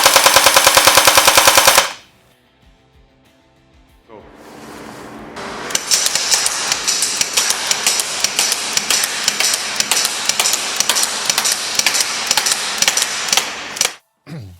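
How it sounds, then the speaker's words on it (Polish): Rapid full-auto bursts of a Cyma 126 electric airsoft pistol rattle loudly and continuously for several seconds, preceded by a brief mechanical rattle and a short loud burst at the start. "W trybie pojedynczym oddajemy pojedyncze strzały, w trybie auto"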